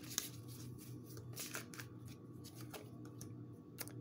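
Tarot cards are shuffled softly at close range, producing faint papery riffles and light flicks over a low background hum, with no talking.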